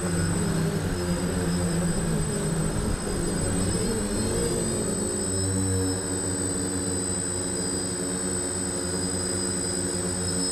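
DJI Flame Wheel 450 quadcopter with 10-inch props on a 3S battery, a steady high-pitched multi-rotor whine hovering overhead, continuous and fairly loud with slight pitch shifts.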